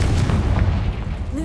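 A Confringo blasting spell goes off in Hogwarts Legacy, a loud, close, deep rumbling boom that holds heavy and low for about a second and a half.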